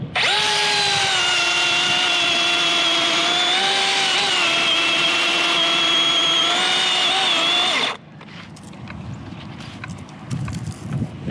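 A loud chainsaw runs at a steady high whine while cutting the dead top of a large white oak, then cuts out abruptly, leaving faint outdoor noise and light knocks.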